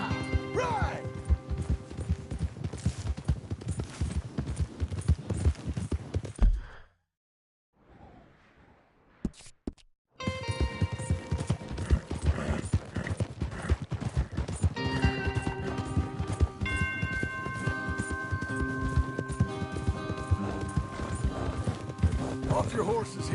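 Several horses galloping in Red Dead Redemption 2, a dense continuous clatter of hooves with music and loud game effects, broken by a brief near-silent gap midway before the galloping resumes, with characters talking over it.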